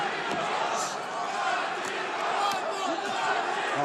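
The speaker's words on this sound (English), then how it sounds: "And listen to the crowd here." A boxing arena crowd at the Vergil Ortiz Jr. vs Israil Madrimov fight roars in a dense, continuous wall of cheering and shouting, with a commentator's voice faintly mixed in.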